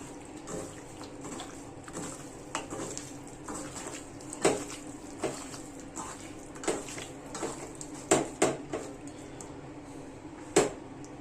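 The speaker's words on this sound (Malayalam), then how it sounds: "എന്നിട്ട് നല്ലപോലെ ഇളക്കി ഇനി കൊണ്ട് മിക്സ് ചെയ്ത് വെക്കണം." Chicken pieces being mixed with marinade and squeezed lemon juice in a bowl, giving soft wet squelches and scattered clinks against the bowl at an irregular pace, close and fairly quiet.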